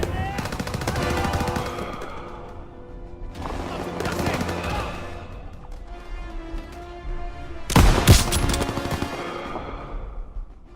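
Gunfire in Call of Duty WWII during Operation Cobra: loud bursts of automatic fire in several separate volleys, with a heavier blast near the end and battle voices shouting underneath.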